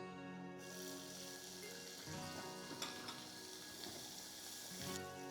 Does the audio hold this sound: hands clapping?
no